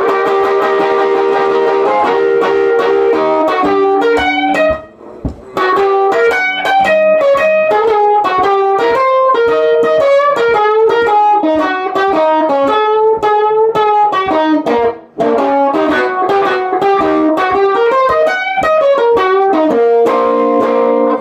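A 1954 Gibson ES5 electric guitar on its bridge pickup plays a loud, continuous run of bright picked notes and chords, with two brief breaks in the flow.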